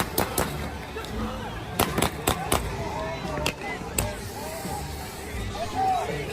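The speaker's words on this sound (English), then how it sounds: "Wait, they're shooting real bullets?" Several sharp, loud reports ring out in quick succession, then sporadic single cracks, over a background of crowd babble and street noise during rioting in Los Angeles.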